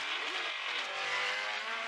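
A race car spins out in the 1970s Formula One film Rush, its engine droning steadily with a screeching tire tone layered over it, continuous and fairly loud for the full moment.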